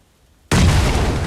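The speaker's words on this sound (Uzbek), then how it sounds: "Mana bu tomondan ham otishyapti." A sudden loud blast of video game gunfire or explosion cuts in after near silence, a dense booming burst that sustains and rolls on for the rest of the moment, with no talk over it.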